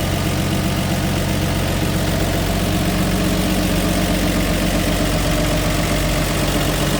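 A 1962 Ford Galaxie 500 convertible's inline six with a two-barrel carburetor idles steadily, a close, continuous low rumble with an even, slightly uneven-firing pulse throughout.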